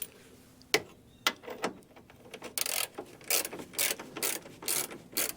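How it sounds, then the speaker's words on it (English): Ratchet wrench loosening a greased leaf-spring shackle bolt on a Jeep Cherokee: quick, close clicking strokes in irregular bursts, sparse at first and then faster and denser. "let's get that bolt out"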